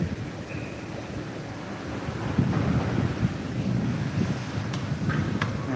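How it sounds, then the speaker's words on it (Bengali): A steady roar of heavy rain and gusting wind in a storm in Gazipur, Bangladesh, dense and continuous, with a few faint distant knocks. "দেখতে পাচ্ছেন আপনারা বাইরে কি প্রচণ্ড পরিমাণে বৃষ্টি"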